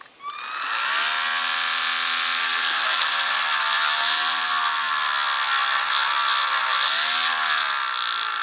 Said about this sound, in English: I've got a small rotary cutter in my, my Dremel stylus